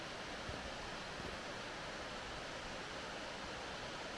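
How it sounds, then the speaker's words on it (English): A waterfall in a valley of Wharfedale roars as a constant, dense rush of falling water, close and unbroken throughout, with no voices. "here is the waterfall"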